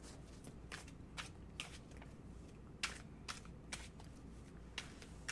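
Tarot cards are shuffled in quick, faint bursts, a series of soft crisp riffles and taps spaced irregularly across a quiet room background, with no talking.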